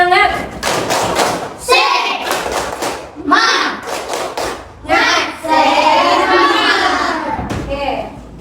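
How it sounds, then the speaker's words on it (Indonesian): A classroom group performs a rhythmic 'tepuk semangat' cheer clap, loud sharp claps in patterned bursts mixed with children's chanting voices and shouts, close and energetic throughout. "Ya, tepuk semangat."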